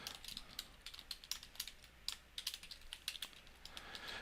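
Keys clatter on a computer keyboard in quick, uneven bursts of crisp clicks, close and fairly quiet, alone with no talking.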